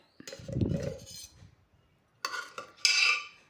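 Cooked chickpeas for kadala curry are spooned into a mixer jar: a close spell of scraping and rattling against metal, a pause, then two sharper clinks of the spoon on the jar.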